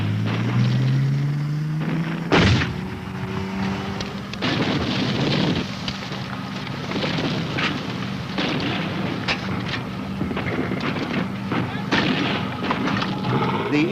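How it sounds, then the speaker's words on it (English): Tanks in a 1983 Soviet encounter exercise fire covering fire: a few heavy booms over a continuous rumbling, crackling background. "The tanks give covering fire."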